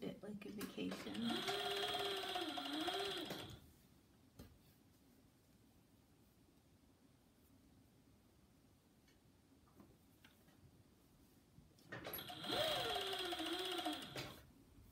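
A home sewing machine stitching a tiny tee from dark fabric runs in two loud bursts at the start and end, with quiet room tone in between.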